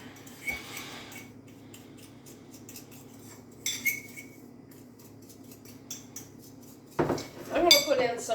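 A spoon scrapes and clinks against a mug while mixing butter and brown sugar for a banana mug cake, with a few sharp taps spaced apart and a quieter stretch between them.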